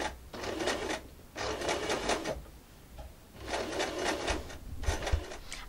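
A sewing machine runs in three bursts of rapid stitching around a circular shape, with short quiet pauses between runs as the fabric is turned, fairly faint and close with no talk.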